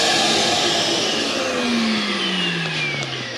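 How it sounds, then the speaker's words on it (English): An RV central vacuum system runs with its hose attached, giving a loud, steady whine whose pitch slowly drops toward the end, heard alone without talk. "Turn it on to use the vacuum with the hose"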